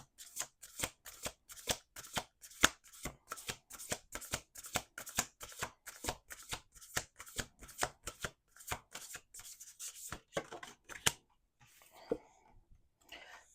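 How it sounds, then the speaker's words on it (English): Oracle cards shuffled in a steady run of crisp riffling bursts, close and fairly quiet, with a short pause and some softer handling near the end; no talking. "We're going to do 2 more shuffles."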